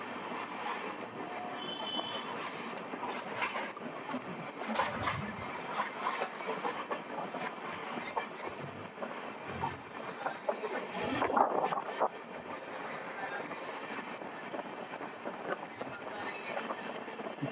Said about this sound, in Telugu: స్లోగా ఇప్పుడే పికప్ అందుకుంటుంది బండి.